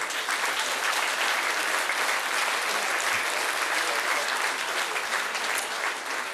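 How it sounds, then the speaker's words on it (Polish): Loud, dense applause from an audience at a beauty pageant, steady clapping sustained evenly from start to finish with no voices over it. "Dziękuję za gromki oklaski."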